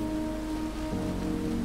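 Steady, soft rainfall in the open world of the video game Sonic Frontiers, a continuous even hiss with a low ambient musical drone underneath, no voices.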